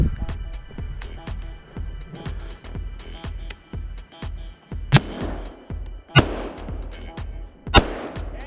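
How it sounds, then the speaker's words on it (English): Distant rifle shots at a shooting range crack out three times with a rolling echo after each, spaced a second or so apart, over a steady run of faint, regular clicks and low rumble. "Rifle far."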